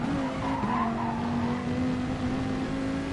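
A race car slides on all four wheels around Spa in a racing video game, a sustained tire squeal at moderate level with a steady engine drone underneath, no talking.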